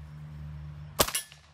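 A gunshot at a shooting target in a video game, heard as one sharp, loud crack followed by a couple of quick clattering echoes over a low steady hum.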